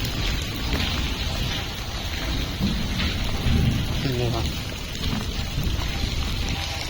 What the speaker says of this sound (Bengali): বৃষ্টিটা অনেক